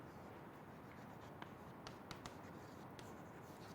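Pen or chalk writing during a lecture on addition circuits, faint scratchy strokes with a few sharp taps over quiet room hiss, no speech.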